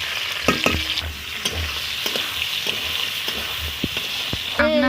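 Prawns and onions frying in oil with torn chillies for a chingri kochu shak dish, a loud continuous sizzle with repeated clacks of a spatula stirring and scraping the pan.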